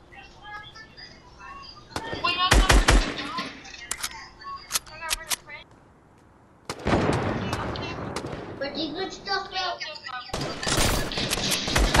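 Sniper and other gunfire in a Fortnite duo match, sharp loud shots in clusters between stretches of game sounds, with players talking excitedly throughout.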